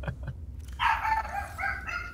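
A small dog gives a short high yapping bark followed by a drawn-out whiny yelp, close by and fairly loud against a low background hum.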